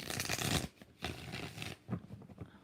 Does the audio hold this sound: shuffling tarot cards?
yes